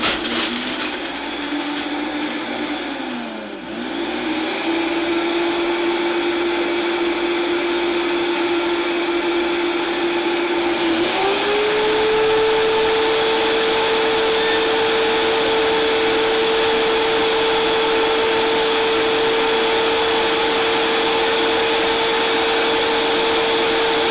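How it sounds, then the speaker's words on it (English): A high-powered blender runs continuously as it purees nuts into a thick, creamy dressing for a broccoli and avocado salad. The motor whirs loudly, dips once, then climbs to a higher, steady pitch and holds it to the end. "this is a really high-powered blender, so the nuts are going to get to a creamy"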